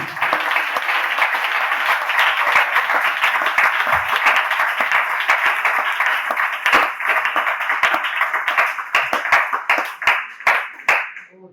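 A church congregation applauding at a prayer service, dense sustained clapping from many hands that thins into scattered individual claps toward the end.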